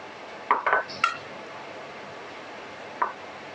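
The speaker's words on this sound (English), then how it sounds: "Give that a nice mix." A spoon clinks against a mixing bowl a few times while sweetcorn fritter batter with self-raising flour is stirred, the taps sharp and close with quiet pauses between.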